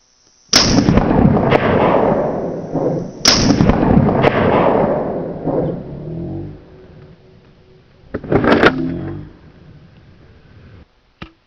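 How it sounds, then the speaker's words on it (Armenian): Winchester 1300 Defender 12-gauge pump shotgun fired at a watermelon: two loud close blasts with long rolling echoes, then a third sharper report after a quiet stretch, outdoors with no talking. "Հիմա կրակելու ենք ձմերուկի վրա, որ տեսնենք թե ինչքան էներգիա ունի փամփուշտը իր մեջ"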